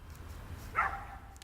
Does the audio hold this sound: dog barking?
yes